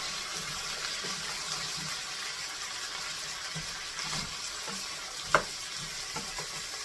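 Onions sizzle steadily in a hot pan for liver and onions, a continuous close frying hiss with faint stirring and one sharp utensil tap partway through.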